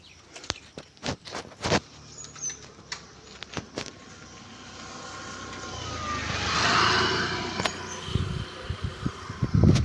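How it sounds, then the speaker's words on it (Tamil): A vehicle comes up from behind: a faint drone swells to a broad rush around the middle and then fades, among scattered clicks and taps nearby. "பின்னாடி ஒரு வண்டி வருது"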